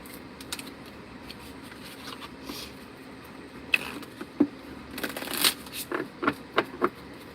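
Tarot cards being shuffled by hand, a series of soft riffling and papery slaps that grow busier toward the end, close and fairly quiet, with no speech over them.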